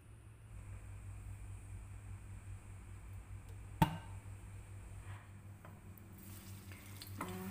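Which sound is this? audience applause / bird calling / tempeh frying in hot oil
tempeh frying in hot oil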